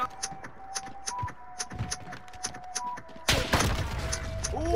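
Video game gunfire from a trick shot: a series of sharp, spaced shots with thuds over a faint steady tone, then a louder, denser burst of shooting near the end.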